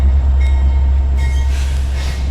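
A train passes nearby with a loud, heavy low rumble and clatter that holds steady throughout, with a faint high squeal of wheels above it and no talking.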